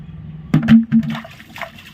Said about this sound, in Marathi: ही पाणी आपण याच्यात ओतू.